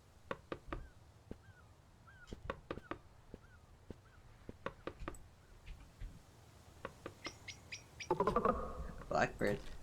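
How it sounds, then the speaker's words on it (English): A blackbird calls in a bird-watching video game, giving short, faint, rising chirps repeated several times among scattered sharp ticking clicks. Louder, busier warbling notes follow near the end. "Blackbird."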